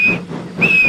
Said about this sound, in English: Then the driver pulled the lever and Edward puffed away, and he blew his whistle.